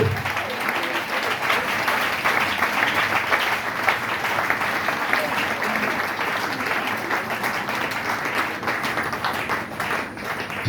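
A large church congregation at a marathon closing event applauds and cheers a pastor, producing a loud, continuous roar of clapping with crowd noise throughout.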